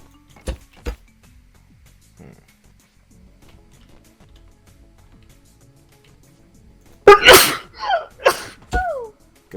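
A single loud, close sneeze bursts out during a Scrap Mechanic gameplay session, following long near-silence with a couple of faint clicks, then a few brief vocal sounds trail after it.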